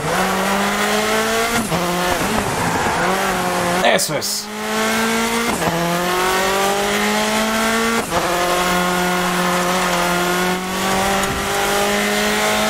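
A racing car in a hill-climb road racing video game sustains a loud, steady engine drone that rises in pitch through the gears, with brief shifts and tyre scrubs, while someone talks briefly over it.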